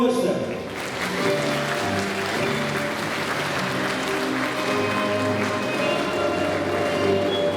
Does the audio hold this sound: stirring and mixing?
no